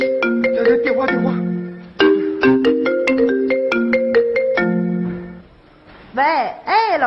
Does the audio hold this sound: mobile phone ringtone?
yes